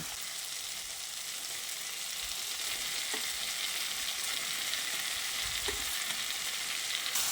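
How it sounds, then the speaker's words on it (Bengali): Ridge gourd being stir-fried in a pan with fried vegetables over low-to-medium gas flame, giving a steady broadband sizzle throughout with a couple of faint clinks from stirring, and no voices. "ভাজা সবজিগুলো দিয়ে আবারও ভালো করে নেড়ে চেড়ে মিশিয়ে নিচ্ছি।"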